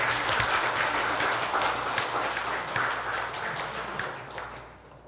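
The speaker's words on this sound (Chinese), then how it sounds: "再次掌声" Sustained audience applause following an academic lecture in a hall, a dense, steady wash of many hands clapping that fades away toward the end.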